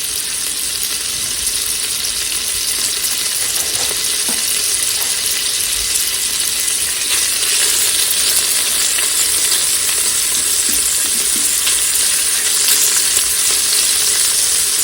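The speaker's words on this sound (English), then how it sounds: "add your pancetta, and we're going to brown this off, saute that off" Diced pancetta browns and sautés in hot oil in a pressure cooker for spaghetti carbonara, giving a loud, dense, constant sizzle with occasional soft stirring scrapes throughout.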